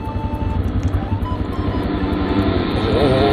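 Glitchy motorcycle engine in a Minecraft mod, a steady, loud pulsing drone that rumbles continuously for the whole stretch, rising slightly toward the end, with a voice faintly present underneath.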